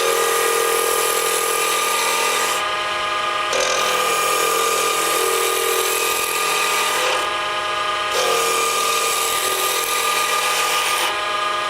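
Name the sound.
woodturning tool cutting walnut globe ornament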